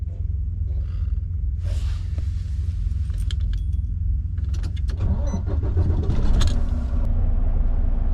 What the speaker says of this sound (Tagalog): So start natin para makita nyo kung gaano kataas yung RPM nya guys kapag yung normal idling lang nya.